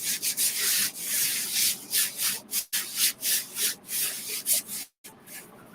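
Mylar stencil being burnished firmly onto a t-shirt, a run of rhythmic dry rubbing strokes with brief pauses, close and steady with no talking.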